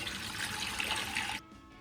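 A steady rush of water poured into a pot to boil black-eyed beans, a continuous splashing stream that stops abruptly near the end, close and fairly loud with no talk.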